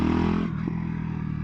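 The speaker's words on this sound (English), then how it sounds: "Oh, I love that pop from the overrun on the exhaust." Fantic Caballero Scrambler 500 motorcycle exhaust popping on overrun, a loud steady engine drone that drops off after half a second with a brief crackle, then settles into a lower rumble while riding.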